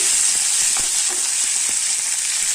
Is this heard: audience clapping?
no